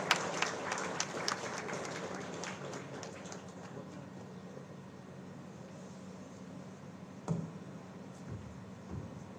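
Audience at a college convocation applauding, a burst of clapping at the start that thins out and fades within a few seconds into a quiet hall with a couple of faint knocks.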